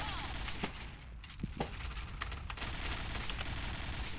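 Rapid bursts of gunfire crackle in the video game Point Blank, with scattered sharp blasts, all under loud, busy game noise.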